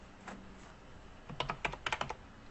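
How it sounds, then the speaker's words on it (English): Keys clatter on a computer keyboard, a few soft taps followed by a quick burst of about half a dozen close, crisp keystrokes. "As you start typing,"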